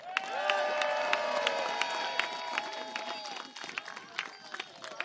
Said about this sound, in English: That's a good cheer.